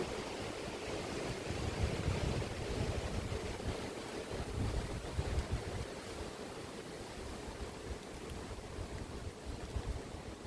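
Strong wind sweeps across the Kumara Parvat mountain top, a continuous roaring rush with gusty low buffeting against the microphone and no voices.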